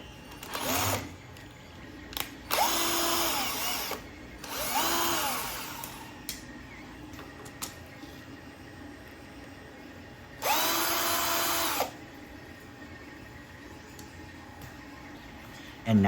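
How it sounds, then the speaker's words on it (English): A power screwdriver unscrews parts of a hexapod robot's servo leg in short whirring bursts: two back-to-back runs early on and one longer run later, with quiet handling clicks between them. "So what I need to do is actually unscrew some parts here."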